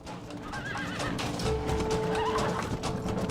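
A horse in the video game Red Dead Redemption gives a loud, wavering whinny while its hooves clatter in a galloping rhythm beneath, with no talk.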